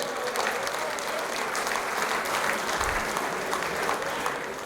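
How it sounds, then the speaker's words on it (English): Warm audience applause at a school rugby dinner, a steady wash of many hands clapping that holds evenly throughout, moderately loud with no talk over it. "Shall we give him a warm round of applause for all of that effort?"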